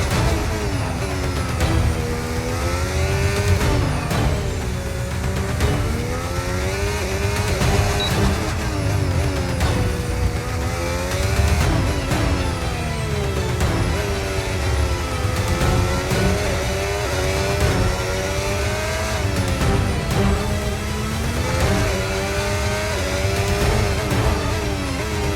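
A race car engine revs up and down steadily through gear changes, lapping a Singapore street circuit in a racing game, loud and close with occasional tire squeal.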